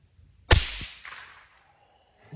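A single sharp, loud crack of a suppressed rifle firing a supersonic round, with a supersonic snap, followed by a decaying echo rolling out over about a second, at a shooting range.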